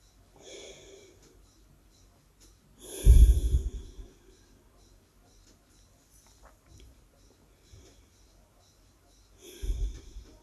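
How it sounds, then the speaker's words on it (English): A person takes slow, deep breaths, each inhale and exhale audible as a soft rush of air, with a long pause between two distinct breaths. "So, with me now, take a breath."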